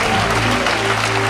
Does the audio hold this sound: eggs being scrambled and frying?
no